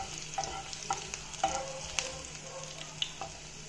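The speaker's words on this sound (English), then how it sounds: "Now I'm going to add the garlic that I showed you earlier. I just have crushed them in a crusher and I have to give it a quick stir." Crushed garlic frying in a pan for a Bengali fish dish while being stirred, with a steady close sizzle broken by several short scraping stir strokes.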